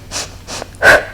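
Three audible breaths in and out during a home Pilates ab workout, close and soft, each a short airy puff with the last one longest and loudest.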